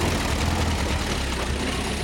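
A Russian vehicle rolls along through a walnut forest in Kyrgyzstan, its engine giving a steady, loud, close rumbling drone with no pauses or voices.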